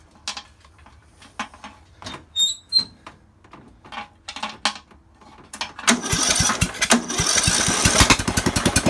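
Racing tractor engine being started: a series of squeaky, sputtering cranking bursts and a few metallic clinks, then the engine catches and runs with a loud, close, rapid chugging rhythm for the last few seconds.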